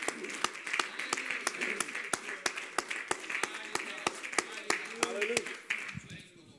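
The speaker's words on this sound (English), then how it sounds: "Somebody give the Lord one more hand clap of praise." Church congregation clapping hands in praise during a worship service, a steady rhythmic burst of many sharp claps with crowd voices underneath, fading out at the end.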